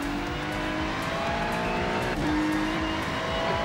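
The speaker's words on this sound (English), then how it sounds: "we are away in this Ferrari GT3 race. We've got the first chicane coming up very shortly. Braking early into that" In the iRacing video game, a Ferrari GT3 race car brakes into a chicane among other cars, its engine a steady droning tone that dips as it slows, with faint squeals, and no talk.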